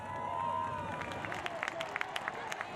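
Home crowd at a Paris 2024 Paralympic race applauding and cheering, a broad, distant wash of clapping and roar under a commentator's voice.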